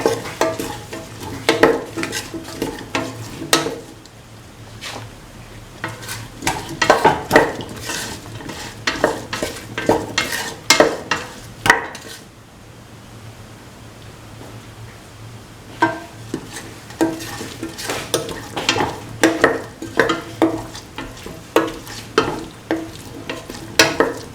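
A spoon stirs and tosses cauliflower, potato and coconut milk rice in a pan, bursts of scraping and clinking strokes over a soft sizzle, pausing briefly midway before resuming, with no speech.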